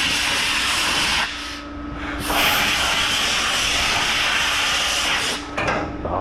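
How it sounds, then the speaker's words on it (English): Aerosolized solvent sprays in strong, steady hissing bursts while a part is cleaned, one loud continuous spray briefly dipping around the middle, then resuming close and harsh before trailing off. "when you aerosolize the solvent"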